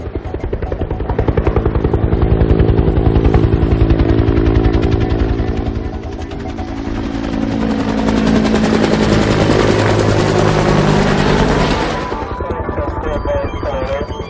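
A helicopter's rotor chops loud and steady close by, swelling as it passes overhead and then easing slightly, with a sustained turbine whine throughout.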